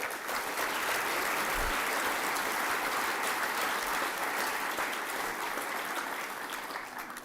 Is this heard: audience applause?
yes